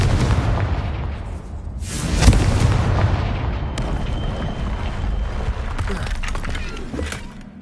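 A Confringo spell blast in the game Hogwarts Legacy: a loud, full boom with a sharp crack, set within a constant roaring rumble that carries on after the hit.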